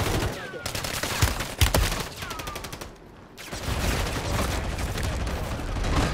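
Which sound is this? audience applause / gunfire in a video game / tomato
gunfire in a video game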